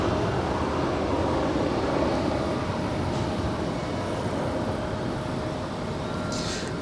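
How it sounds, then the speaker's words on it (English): A United Airlines Airbus A320 on arrival at Los Angeles International Airport, a steady broad engine roar that holds loud and constant throughout, with a faint tonal whine riding on top. "That is United Airlines Flight 355 coming in from Austin, Texas in this A320."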